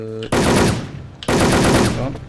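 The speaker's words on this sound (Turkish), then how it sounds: "Mermi yağdırdım oraya mermi." Machine gun fire in the online shooter Wolfteam, two loud close bursts of rapid automatic shots, the second following about a second after the first.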